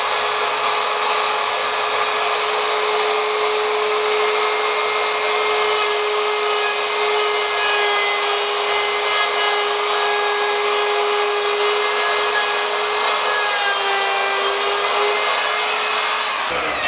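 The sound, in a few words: Ryobi router routing a wood channel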